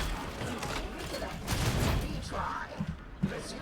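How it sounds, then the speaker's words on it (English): Bolter gunfire in Warhammer 40,000 Darktide sounds as a heavy burst of rapid booming shots, followed by a few scattered thuds and mechanical clanks as the firing tapers off. "I'm lucky I had like at least half a bolter mag to dump them"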